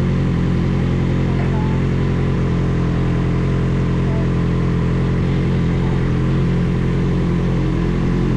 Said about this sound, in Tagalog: Matutuwa kayo sa tunog talaga nito kasi ang sarap pakinggan, hindi ka maboboring sa biyahe kasi nga inline 4 siya.